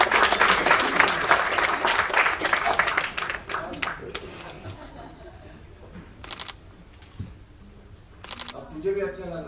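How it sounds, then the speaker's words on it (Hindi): Audience applause in a theatre arts event hall, a broad burst of clapping that swells at first, then thins into scattered claps with camera shutter clicks and some talk. "एक बार जोरदार तालियों से स्वागत करें।"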